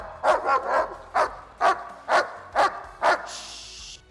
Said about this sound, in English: he's barking for a different reason